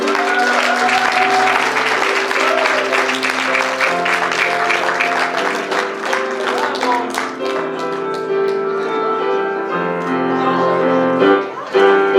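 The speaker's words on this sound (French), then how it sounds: "Veuillez applaudir Noémie Dumais" Applause at the ESCB 2021 gown and yearbook graduation ceremony, continuous clapping mixed with background music that carries through and grows more tonal toward the end.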